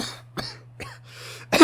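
Several sharp, harsh coughs from a sick character spaced across a short quiet stretch, the last one loudest and closest, with a faint steady hum underneath.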